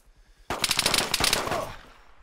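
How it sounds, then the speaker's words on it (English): Rapid automatic gunfire in the military shooter Arma 3, a sudden close burst of rattling shots that fades into a short echoing tail. "Yeah, I'm getting shot at."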